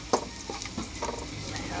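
Onion and garlic sauté in a pan, a steady close sizzle broken by scraping and stirring clicks, with a sharp clatter near the start.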